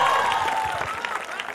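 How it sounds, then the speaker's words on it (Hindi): Applause from an audience at a small open-stage organisation programme, clapping spreading under a fading tonal note and a trace of voices, moderately loud and continuous. "इसके लिए एक बार जोरदार तालियां"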